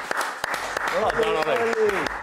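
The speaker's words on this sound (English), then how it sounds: "that's another round of applause" Audience applause during a football fan TV highlights show, clapping running steadily beneath a voice that talks over it.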